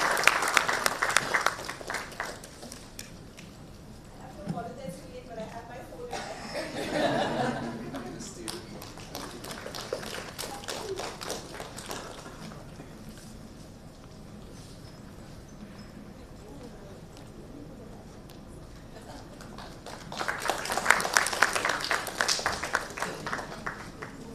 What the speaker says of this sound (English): give a big round of applause to all the panelists